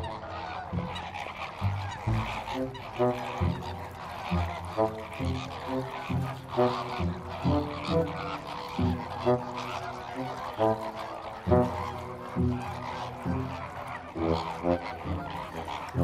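A large flock of greater flamingos calls in the Camargue, a continuous chorus of nasal, goose-like honks that repeat rhythmically and overlap at a moderate distance, with no voice over them.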